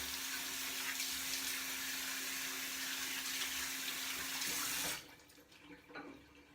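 A tap runs steadily into a basin during a wet shave, a close, even hiss of flowing water that cuts off abruptly near five seconds, leaving quiet handling noises.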